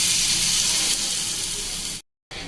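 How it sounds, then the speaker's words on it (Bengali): Bread pakora shallow frying in oil on a low flame, a close, steady sizzle and hiss that cuts out abruptly for a moment before resuming. "দেখুন স্যালো ফ্রাই করলাম আমি খুব সুন্দর করে, একদম লো ফ্লেমে"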